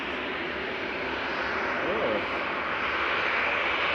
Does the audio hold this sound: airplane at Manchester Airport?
yes